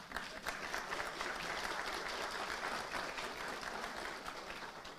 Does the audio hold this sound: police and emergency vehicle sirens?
no